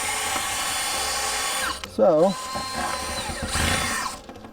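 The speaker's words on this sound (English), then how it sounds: "I'm going to put a couple of holes in here to zip tie the top to the sides." Power drill boring holes into a plastic barrel, a steady close whine that cuts out, followed by someone speaking briefly and another shorter burst of drilling.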